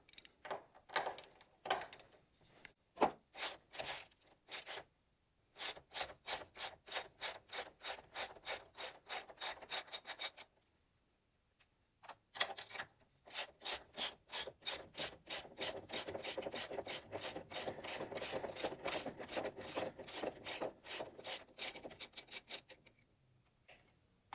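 A ratchet wrench rapidly clicks while removing the last nut from a car strut during strut replacement, in close bursts of fast rasping ratchet strokes separated by short pauses.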